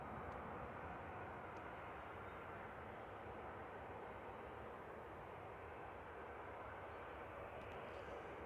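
An airplane's engines roar steadily at Manchester Airport, a broad constant rumble at moderate distance that neither rises nor fades, with no talking over it.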